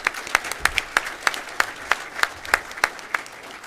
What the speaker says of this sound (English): Let's give our American Degree recipients one more round of applause.